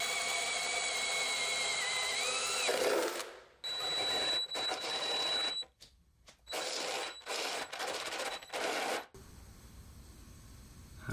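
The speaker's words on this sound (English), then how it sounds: "I'm gonna literally blast a hole straight through here because I can't fit the drill through there" A step drill bit bores a hole through the engine bay sheet metal of an E30 car, giving loud grinding, whining bursts that stop and restart several times with short pauses between them.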